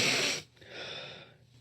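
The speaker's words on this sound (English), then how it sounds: "Does anyone hear him breathing?" A man breathes loudly and heavily close to the microphone, one long noisy exhale with a raspy, snorting edge, followed by a softer breath.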